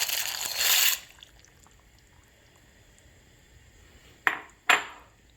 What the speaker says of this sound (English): Once at a boil, go ahead and throw those noodles right in.